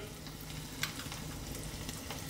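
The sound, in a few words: cauliflower batter dropped by spoon into hot oil, frying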